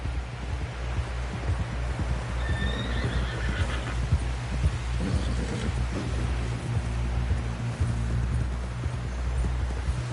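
A horse in Red Dead Redemption 2 gallops with steady rhythmic hoofbeats and a brief whinny, over a low rumbling ambient bed, continuous and fairly loud without speech.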